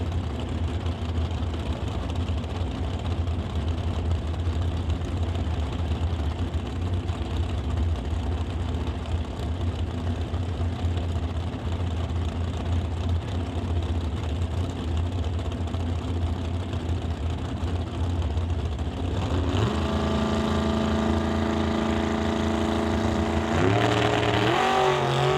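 Dragster engines at a drag race rumble loudly and continuously at idle, then near the end rev up in a rising, roaring throttle surge.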